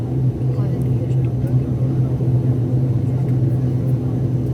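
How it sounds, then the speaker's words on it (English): A turboprop aircraft engine heard from inside the cabin, a steady loud low rumble and drone filling the background throughout, with no distinct rise or break. "But the turboprop engine starts. We can hear till the cabin inside."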